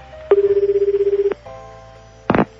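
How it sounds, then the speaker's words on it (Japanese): A telephone ringing during a call: one long electronic ring tone lasting about a second, a brief lower tone after it, then a short burst of clicks near the end. It is loud and close, with no talk. "よし、もう一回電話しよう。"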